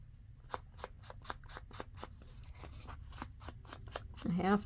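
Scissors snip through paper in a quick, even series of about a dozen crisp cuts close by, ending with a brief burst of voice.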